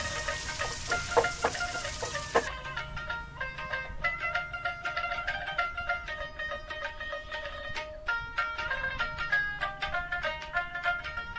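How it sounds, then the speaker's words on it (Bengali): Onion and two dried chillies fry in oil while being stirred, an opening burst of loud sizzle followed by rapid, close clinking and scraping of a utensil against the pan. "পেঁয়াজ আর শুকনো লঙ্কাটা একটু হালকা নেড়ে চেড়ে ভেজে নেব"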